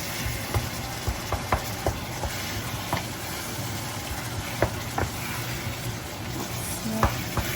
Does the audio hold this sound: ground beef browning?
yes